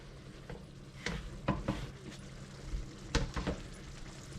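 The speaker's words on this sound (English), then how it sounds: "Stir that through." Cheese is stirred through a hot lasagne-style pasta bake in a pan, with soft scraping strokes and clinks of the utensil against the pan over a low background sizzle.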